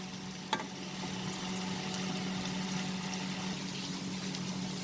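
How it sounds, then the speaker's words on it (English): Bitter gourd (karela) slices fry in a pan with a steady, close crackling sizzle, a single sharp click just after the start and a faint low hum underneath. "fry the Bittergourd also. So let's fry them."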